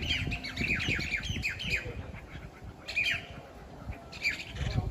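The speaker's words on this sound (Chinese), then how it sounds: "好舒服呀，听听鸟叫。" Birds chirp and squawk outdoors beside a backyard pool, with short repeated calls in scattered bursts over a soft low background rumble; the calls are fairly quiet and no one speaks.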